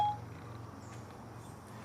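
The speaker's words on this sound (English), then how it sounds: "Set the timer for 2 minutes and 10 seconds." A kitchen-style timer gives a single short electronic beep as it is set, followed by quiet room tone.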